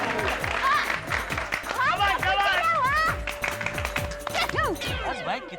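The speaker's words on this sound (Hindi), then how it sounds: "बस भाई कितने ताली बजाएगी।" Repeated rhythmic clapping from a group gathered to celebrate children's A+ exam results, steady beats running throughout under overlapping cheerful voices and music.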